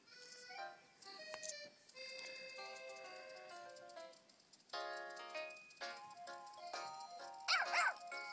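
A puppy on a walk outdoors barks and yips in short bursts, moderately close, with a sharper cluster of yelps near the end.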